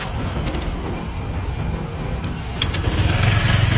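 A motorcycle engine starting up during a charging-fault check, the ignition catching and the idle rising into a steady rumble near the end, close and continuous with no talk.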